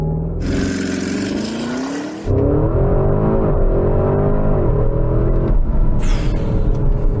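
A Porsche Cayenne Turbo GT launches hard from a standstill: a loud engine roar with tyre noise first, then a deep rising growl climbing through the gears, close and continuous without talk.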